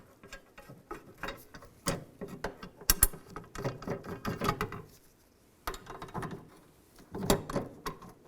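A ratchet tightens bracket bolts on a 2007-2013 Chevrolet Silverado during blower motor resistor work, with quiet, irregular clicking in several short bursts separated by pauses.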